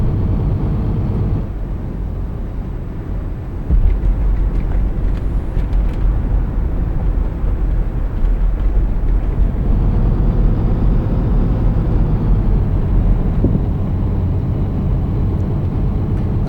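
VDL coach driving in Tourist Bus Simulator, a steady low engine drone with road rumble that holds at a constant, fairly loud level throughout, no talk.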